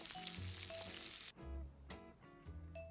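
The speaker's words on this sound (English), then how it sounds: "Once the bacon has been cooking, add this piece of salmon on top." A piece of salmon sizzles as it fries on top of cooking bacon in a pan, with bright crackling that drops away midway before several shorter bursts and faint pops.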